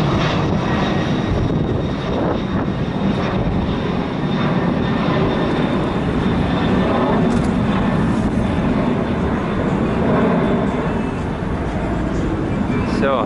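An airplane roars steadily overhead near an Adler hypermarket, a loud continuous engine rumble that fills the whole stretch.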